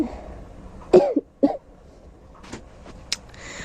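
Two sharp, harsh coughs close together near the mic from a person with a sore throat, followed by quieter rustling and a faint clack in a quiet room.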